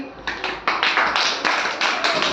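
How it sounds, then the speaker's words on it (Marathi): Schoolchildren in a classroom clap together for classmates who recited a multiplication table, a dense burst of many hands clapping with irregular swells and a few louder pulses, close and lively. "टाळ्या वाजवा यांच्यासाठी"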